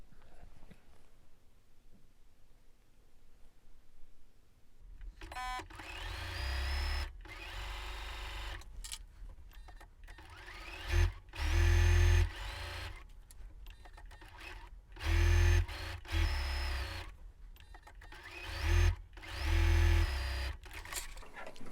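A sewing machine chain-pieces quilt block fabric for a star quilt, starting after about five seconds of near silence, then running in loud repeated bursts of steady mechanical stitching with short pauses between seams.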